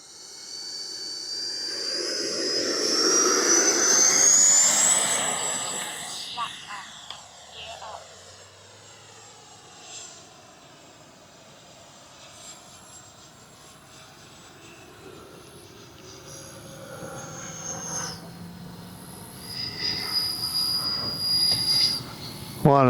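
An FMS F-86 80mm RC jet fitted with a KM Models afterburner takes off, its turbine whine rising into a loud rushing roar that fades as it climbs away, then swells again as it passes, with a voice speaking at times.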